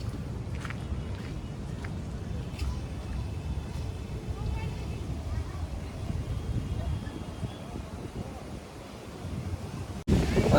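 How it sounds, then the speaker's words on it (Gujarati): Strong evening wind blowing across a lake in a botanical garden in Surat, a steady broadband rush and buffet on the microphone that continues without a break, ending in a louder gust. "પવન ફૂલ ચાલુ થઈ ગયો છે"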